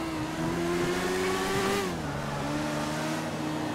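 A motorcycle engine in GTA V revs hard and steadily, its pitch holding high and then dropping as the throttle eases, loud and continuous with no talk over it.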